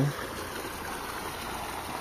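Water gushes from a solar water pump outlet at an open water source in Peñaranda, Nueva Ecija: a steady, rushing, stream-like flow that stays constant and fairly close throughout.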